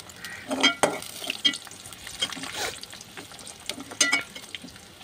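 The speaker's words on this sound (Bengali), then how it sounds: "ভালো করে নেড়ে চেড়ে ভাজবেন যাতে সব পেঁয়াজ ভেজে যায়।" Sliced onions frying in a pan for a chicken curry, stirred in bursts so the sizzle swells with each scrape and clink of the spatula, close and moderately quiet, with no voices.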